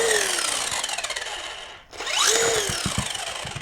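Small Tamiya RC car wheels spin fast on a workbench, a loud whirring motor whine with rising and falling pitch that dips briefly to near silence before spinning back up, accompanied by faint rattling.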